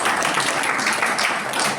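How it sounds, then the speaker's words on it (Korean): A congregation at a church pastors' and elders' workshop gives warm applause, heard as continuous, fairly loud clapping from a crowd that stays even throughout the short stretch. "우리 감사의 마음을 담아서 뜨겁게 박수 한번 하고"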